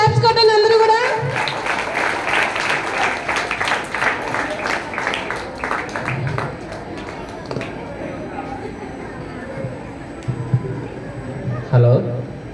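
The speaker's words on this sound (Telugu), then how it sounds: "ఒక్కసారి మరి క్లాప్స్ కొట్టండి అందరూ కూడా" An audience at a family celebration in a tuition centre claps together in a dense burst of applause that tapers off after several seconds, with voices and a speaker talking over it.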